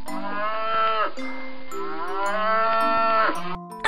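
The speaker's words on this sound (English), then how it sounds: "This is a cow." A cow moos twice in long, drawn-out, loud calls, close up, with a brief tail-off at the end and no talk.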